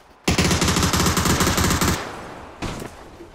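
Rapid automatic gunfire in a battle royale video game rattles loudly for about two seconds, followed by a shorter burst after a brief pause, with no talk over it.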